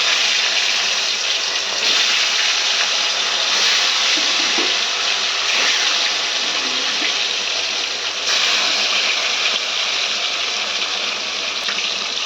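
Catla fish frying in salted hot oil, a loud continuous sizzle and hiss that stays steady throughout with slight surges.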